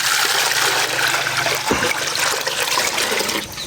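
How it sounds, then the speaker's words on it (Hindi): Water pours steadily into a jug from close range, a continuous splashing gush with a brief knock partway through. "जग लो और डालो इसमें पानी"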